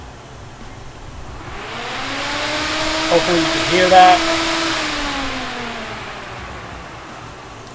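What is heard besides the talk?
electric radiator cooling fan running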